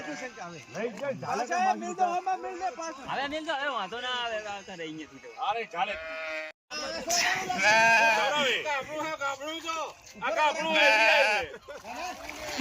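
Many sheep stranded in a river bleat loudly and repeatedly as people pull them out of the water, overlapping in a noisy chorus, with splashing water and people's voices mixed in.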